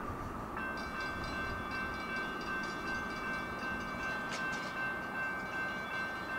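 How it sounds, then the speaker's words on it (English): A freight train rolls past at a rail line, a steady continuous rumble with high, ringing metallic tones and no talking. "There's a train right there."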